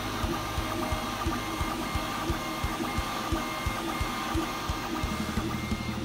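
A HevORT advanced DIY 3D printer with triple Z motors runs a print, giving a steady mechanical hum and whine with regular rhythmic ticks and pulses from the moving axes, close and continuous, with no talking.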